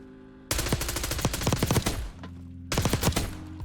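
A submachine gun fires up close in the Black Ops 6 firing range: one long rapid-fire burst of sharp cracks, a brief pause, then a second shorter burst, loud and with no talking.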